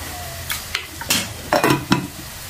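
Vegetables frying in soybean oil and ghee for vegetable pulao, with salt and green chili, stirred in the pan: soft sizzling under a few sharp scraping stirs of a utensil, close and without talk.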